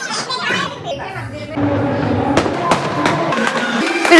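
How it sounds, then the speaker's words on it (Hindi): Firecrackers bursting outdoors during a festive night: a string of sharp, loud bangs at irregular intervals, some near and some farther off, over children's voices and playful chatter in the background. "फिर गाइज मैं बाहर देखती हूँ कि फिर से पटाखे फूटना स्टार्ट हो जाते हैं।"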